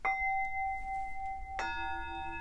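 A notification bell chime rings twice, each a bright ding with a sustained ringing tone, the second strike fuller and lingering, clean and alone with no talk.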